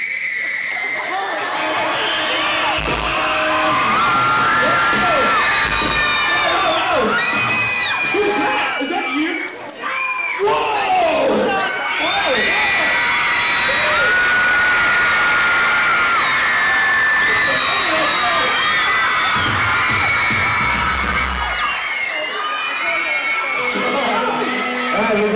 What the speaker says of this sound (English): Let this young lady scream right here.